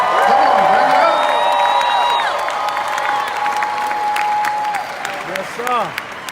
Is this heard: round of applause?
yes